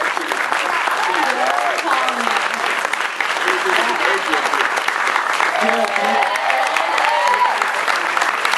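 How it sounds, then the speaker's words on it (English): A film screening audience at a documentary Q&A applauds the composer with steady, dense clapping throughout, while voices chatter underneath. "round of applause for the composer"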